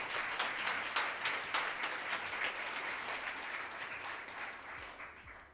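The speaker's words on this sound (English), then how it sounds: "Round of applause for them, please." An audience at an education awards ceremony in Malta applauds steadily, the dense clapping fading gradually over several seconds.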